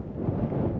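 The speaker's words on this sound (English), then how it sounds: "sorry, it's windy, windy and dusty" Low, rumbling wind at Chola Lake in the Himalayas buffets the microphone in a steady roar with no voices, close and fairly loud throughout the short moment.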